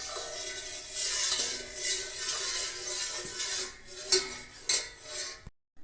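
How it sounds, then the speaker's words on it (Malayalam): Milk being stirred in a pot for Kerala semiya payasam, with a steady scraping and swirling of a spoon against metal, a few sharper clinks near the end, then sudden silence. "ഇതാ നമ്മൾ പാല് നല്ലതുപോലെ ഇളക്കി കൊടുക്കുകയാണ്"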